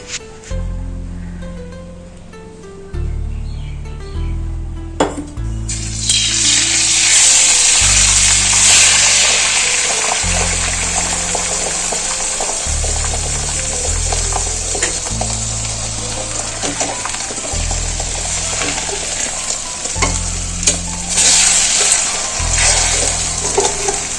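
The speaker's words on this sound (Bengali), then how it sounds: "কড়াইয়ের মধ্যে সাদা তেল দেবো" White oil for chicken fried rice bursts into a loud sizzle in a wok after a few quiet seconds, then keeps hissing steadily and close for the rest of the clip over soft background music.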